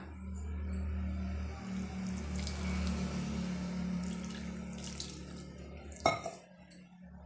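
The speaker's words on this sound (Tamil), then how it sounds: "இப்போ தண்ணி சேர்த்து பிசைஞ்சு எடுத்துக்கலாம்" Water pours steadily in a continuous trickle into parotta dough, ending with a sharp clink of a dish or utensil and a few light knocks.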